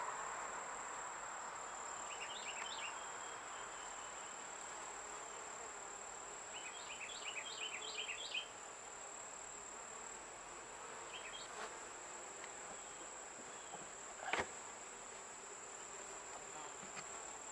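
Honeybees from a Flow Hive hum steadily at close range in a quiet outdoor setting, with a few brief chirping sounds and one sharp knock late on.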